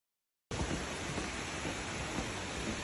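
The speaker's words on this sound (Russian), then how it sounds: "Вот там вот водопад, вы поняли, да?" A waterfall near rocks and a cave, heard as a constant, even roar of falling water that starts abruptly after a brief silence and continues without any voices.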